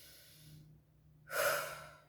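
A close, audible breath is drawn for cleansing, with a soft breathy stretch followed by a stronger, forceful deep inhale or exhale near the end.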